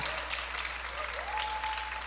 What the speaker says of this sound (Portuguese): Aplauda Jesus, galera, pela vida desses irmãos